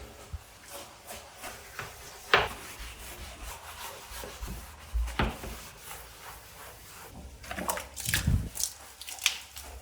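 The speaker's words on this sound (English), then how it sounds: "Now we're going to have to get really scrubby." Hard scrubbing of hard water stains off a shower, repeated rough rubbing strokes in irregular bursts with occasional knocks and water sounds, fairly close.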